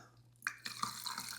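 Water poured into a plant propagation jar holding cuttings: a quiet start, then a short burst of splashing and trickling with small drip-like plinks, close and faint.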